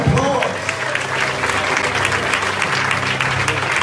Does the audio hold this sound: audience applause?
yes